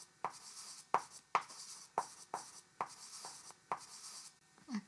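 Pencil sketching trees on paper for a landscape drawing, a run of quick scratchy strokes in short bursts with brief pauses between them, close and fairly quiet.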